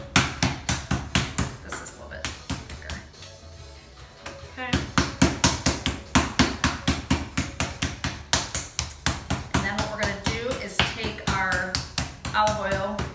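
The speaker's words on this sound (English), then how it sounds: "If you start pounding it, you don't want to totally smush it, but you just want it to be even" Pork loin pounded flat on a board in a kitchen, a fast, steady run of loud, regular thuds with a short pause in the middle, then continuing at the same even rhythm.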